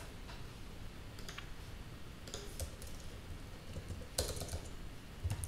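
Quiet computer keyboard typing in short scattered bursts of key clicks over a low background hum, close and faint.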